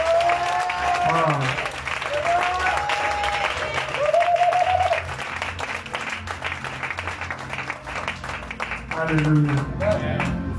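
A church congregation clapping rhythmically in unison during a French worship song, with singing voices and a leader's sung lines over the steady applause.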